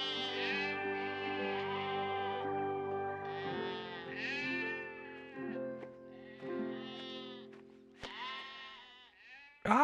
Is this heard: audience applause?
no